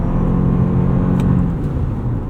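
A Toyota RAV4 Woodland plug-in hybrid accelerates hard from a standstill, a loud, steady low rumble and road whir heard from inside the cabin, rising only slightly with no break.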